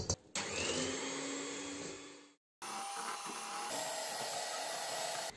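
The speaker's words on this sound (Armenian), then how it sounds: "Ես շարունակելու եմ աշխատել հարիչով" An electric mixer beats dough for Garni gata with a loud, steady motor whir. It cuts out briefly about halfway through, then starts again and runs evenly to the end.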